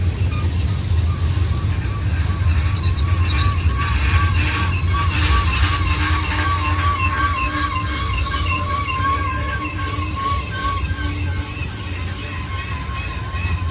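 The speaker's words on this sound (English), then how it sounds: "Really a mixed freighter." A Union Pacific mixed freight train rolls past close by, its wheels squealing in repeated high metallic whines over a steady rumble of cars.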